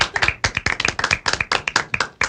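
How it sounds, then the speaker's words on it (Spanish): Studio audience applauding a guest on a Saturday talk show, a small group of crisp, close hand claps in an uneven, lively patter that runs briskly throughout. "Ahora sí, un aplauso para Tajira."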